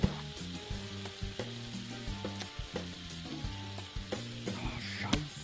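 Salmon sizzles and fries in a pan in the Taskmaster VR video game, a steady crackling hiss broken by rhythmic clinks and stirring knocks, close and alone without talk.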